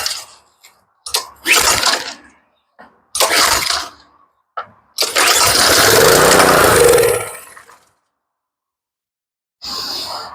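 A Honda pressure washer engine with a fuel problem from bad gas is pull-started: a few short, sharp rope-pull bursts, then a loud, close sputtering roar for about three seconds that dies away, and one more brief burst at the end.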